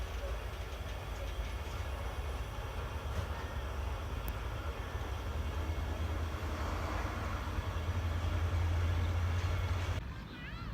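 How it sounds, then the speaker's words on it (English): A passenger train pulls away from the small village station of Dabiji in Pakistan, bound for Karachi, its steady low rumble and wheel noise rolling continuously at moderate distance, easing off slightly near the end. "And right now this train start from Dabiji to going to Karachi"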